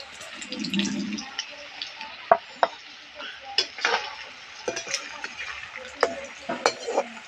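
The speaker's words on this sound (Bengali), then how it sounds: "এবারে নিখুঁত মিষ্টিগুলো ভেজে নেব।" Semolina sitabhog sweets deep-frying in plenty of hot white oil while being gently stirred, giving a steady crackling hiss broken by scattered sharp clicks and pops, with no one talking.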